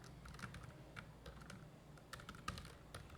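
Keys clatter on a computer keyboard as someone types Python code, a quiet, irregular run of separate clicks and taps at close range with no talking.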